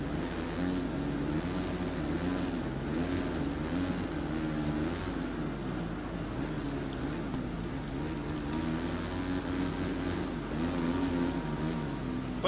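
A motocross bike engine in the MXGP3 racing game drones continuously, its pitch wavering up and down as it revs through the gears, loud and steady with no talk over it.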